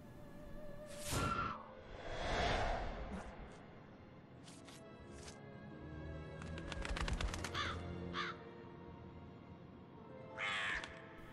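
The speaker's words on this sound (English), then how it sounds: "big black birds." Big black crows in a Still Life stream game, several loud harsh caws spaced apart, some close and some farther off, with a few softer bird calls and a whoosh between them.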